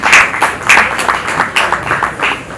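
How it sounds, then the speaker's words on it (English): Event audience at a tourism media roundtable applauding, a scattered round of hand claps in uneven bursts, fairly close and moderately loud, with no speech over it. "A round of applause for everyone, please."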